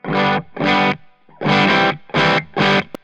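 A Washburn HB32DM electric guitar plays a loud, crunchy riff through a Comfortably Plum drive pedal: five chunky distorted chord stabs in a chopped rhythm, ending with a short pick click.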